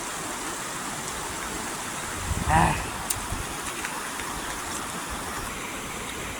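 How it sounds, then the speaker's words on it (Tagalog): Rain falls steadily outdoors beside a river, a soft continuous wash of noise, broken by a brief close voice and a small knock midway. "Kaya lang medyo naabot kami ng ulan."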